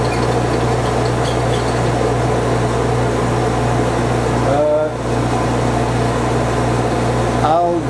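A lathe turns at 1000 RPM as a boring bar takes a single pass through a metal bore, a loud steady machine hum and hiss with faint cutting chatter throughout.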